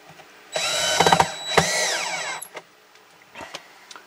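Power screwdriver whining up and down as it drives screws while building a tabletop arcade cabinet, two close bursts of rising and falling motor pitch, then short clicks and taps.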